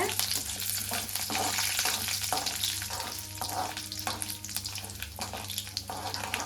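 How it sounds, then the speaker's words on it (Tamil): Lentils and curry leaves fry in a pan for a potato masala, a continuous close crackling sizzle with occasional stirring scrapes over a low steady hum. "பருப்பு கொஞ்சம் பொன்னிறமாக ஆகிற வரைக்கும் வதக்கலாங்க."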